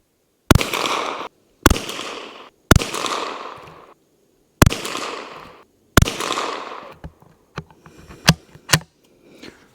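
A Savage B22 rifle fires Federal Range Pack .22 ammunition, five sharp, loud shots spaced about a second apart, each with a short decaying ring, followed by a few faint clicks and knocks.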